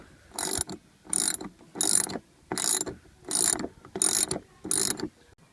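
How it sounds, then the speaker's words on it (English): Half-inch lag bolts being driven into a roof for a solar panel mount make seven evenly spaced, close, rattling mechanical bursts with short quiet gaps between them. "now I am just driving in the lag bolts"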